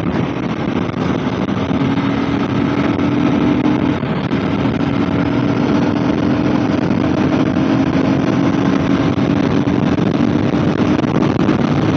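A Gen3 KTM Duke 250 motorcycle runs under throttle with a steady, continuous engine drone and wind rush, close and fairly loud throughout.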